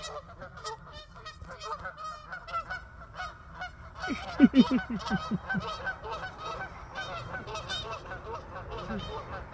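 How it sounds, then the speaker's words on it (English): A flock of geese honks repeatedly, with a burst of loud, close honking midway over steady background calls. "I want to show you guys these geese."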